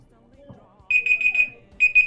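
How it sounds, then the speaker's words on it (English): A timer alarm goes off with loud, rapid high-pitched beeping in two separate bursts and a short gap between them. A faint murmur sits underneath. "There's a timer."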